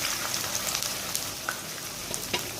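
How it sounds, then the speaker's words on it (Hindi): A kilo of cut okra (bhindi) frying in half a cup of hot oil, a steady bright sizzle with scattered pops and light stirring clicks, close and unbroken by talk. "सबसे पहले हमने भिंडी को फ्राई करना है।"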